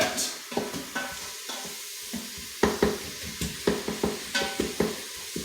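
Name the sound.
stirring onion and ground meat in a frying pan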